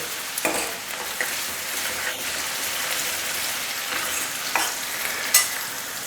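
Finely chopped garlic and about an inch and a half of ginger sautéing in a pan for palak dal, giving a steady close sizzle with a few sharp clicks of stirring.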